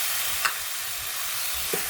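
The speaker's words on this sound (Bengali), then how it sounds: "এখন দিয়ে দিব কেটে রাখা ধুয়ে রাখা বাম মাছগুলো।" Baim eel pieces, cut and washed, go into a hot pan of spiced mixture and sizzle steadily, with a soft stir near the half-second mark and another near the end.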